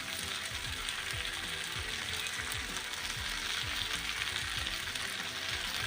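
Potatoes and pre-fried cauliflower cook together in a pan for a vegetarian cauliflower kosha, giving a soft, even sizzle throughout with faint repeated scraping ticks from stirring.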